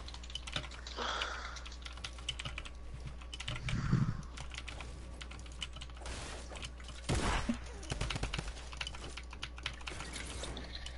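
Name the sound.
computer keyboard typing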